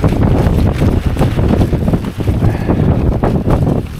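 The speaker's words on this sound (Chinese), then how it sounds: "风太大了，一刮风好冷" Strong wind buffets the microphone at a riverside campsite in the Beijing mountains, a continuous loud, low roaring rush with gusting surges throughout and no voices.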